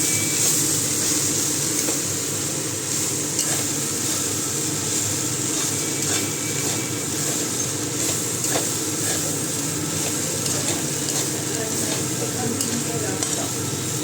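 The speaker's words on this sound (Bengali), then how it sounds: "এবার ভালো করে আমি নাড়াচাড়া করে নেবো" Food stirred in a hot frying pan after black pepper powder goes in, a continuous close sizzle with repeated scraping strokes of the spatula and no talk.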